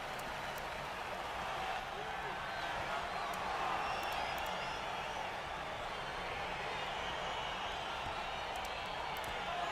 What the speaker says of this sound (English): There goes crowd noise